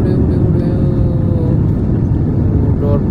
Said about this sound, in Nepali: हाम्रो प्लेन कुदिसक्यो ल है उड्न लाग्यो है उड्यो